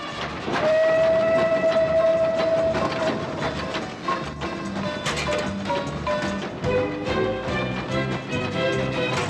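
A steam train's whistle sounds once in a long steady tone in a western film. It rides over loud, continuous rumbling and clattering wheels, with further shorter whistle notes later.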